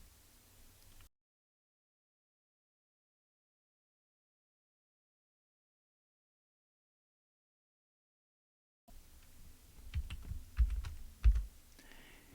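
Typing on a computer keyboard while entering a program: a short quiet stretch, a long silence, then a cluster of close, fairly soft key taps and thumps toward the end.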